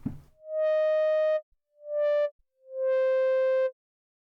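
Oracle synth preset A layer, a Moog D triangle saw shifted up two octaves with a slow filter attack: three sustained pure tones, each swelling in gently, the middle one shorter, played alone with silence between.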